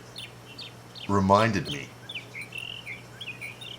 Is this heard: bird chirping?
yes